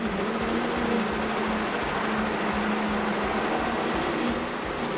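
Steady, loud mechanical drone of powerful 1350 racing boat engines running continuously during a poker run off Key West, with a low throbbing hum and no voices.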